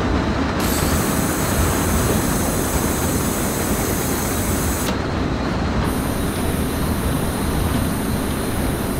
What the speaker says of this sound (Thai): ดูดึงเบรกนะครับผม